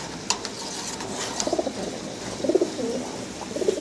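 A pair of black King pigeons coos in soft, repeated rounded bursts, fairly close, against steady background noise with no talking.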